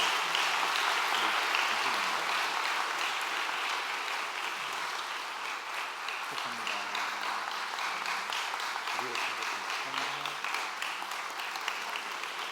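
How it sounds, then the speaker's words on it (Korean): Church congregation applauding newly baptized members during a Sunday morning worship service at a university church, a steady, dense wash of clapping sustained throughout, with faint voices mixed in underneath. "우리 큰 박수로 격려해 주시면 감사하겠습니다"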